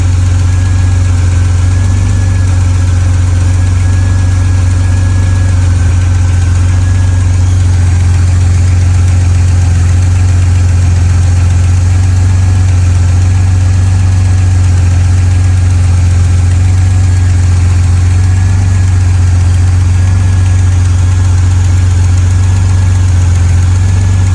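A 1986 Pontiac Fiero GT engine idles steadily for the whole stretch, a constant low rumble and hum with no voices and no change in pace.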